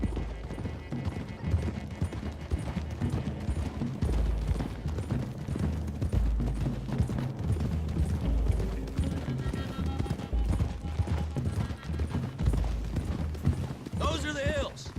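Horses gallop in Red Dead Redemption 2, with a rapid, continuous clatter of hooves that is loud and close, underpinned by low rumbling and punctuated by a whinny near the end.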